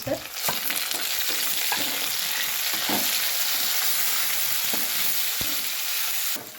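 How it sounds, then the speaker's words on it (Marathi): Onion and tomato sizzle loudly in hot oil with curry leaves, a dense continuous hiss close by, punctuated by sharp clicks of a spoon stirring against the pan. "आपण आता ह्यात टमाटो टाकूया आणि टमाटो पण चांगलं भाजून घेऊया"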